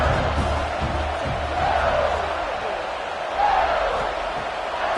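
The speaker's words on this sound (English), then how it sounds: "for an entire game, they are on their feet, yelling, screaming" A football stadium crowd yells and screams in a dense, continuous roar, with rising swells of shouting and no clear individual voices standing out.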